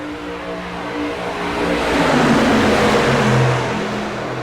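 A whole line of race cars in a racing video game at Indianapolis Motor Speedway drones past together, engines building to a loud peak midway and then easing off slightly.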